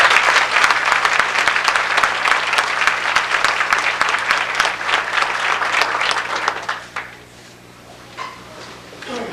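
Audience at a 1988 school academic honors banquet applauding loudly, dense steady clapping that fades out after about seven seconds into quiet room tone.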